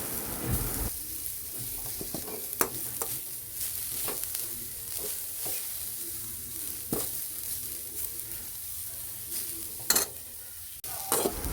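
Pumpkin leaves are turned over and wilted in a hot pan for a Kerala thoran, giving a steady close sizzle with scattered scraping stir clicks and a few sharper knocks of the spoon against the pan.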